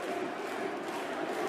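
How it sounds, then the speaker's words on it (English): A darts crowd at the German Darts Championship roars steadily for home player Riccardo Pietreczko, a dense, continuous wall of cheering and chanting filling a large arena. "And the crowd find their voice once again."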